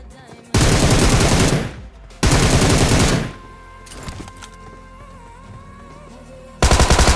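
Gunfire in the mobile game Battlegrounds Mobile India: rapid bursts of automatic weapon fire, loud and close, in two long volleys with a quieter stretch between, then another burst at the end.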